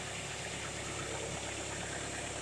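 A 2015 Volkswagen Golf TDI SportWagen diesel engine idles steadily up close, a dense continuous rumble with a faint clattering knock running evenly throughout and no talking.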